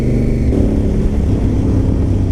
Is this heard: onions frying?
no